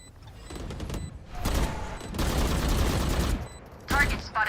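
Sustained automatic gunfire in Valorant, long rattling bursts that stop and restart across the stretch, with a few faint interface beeps and a voice talking over the shooting near the end.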